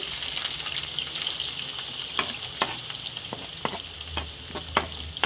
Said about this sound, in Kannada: ಈಗ ಎಣ್ಣೆ ಕಾದಿದೆ ಈರುಳ್ಳಿ ಹಾಕೋತಾ ಇದ್ದೀನಿ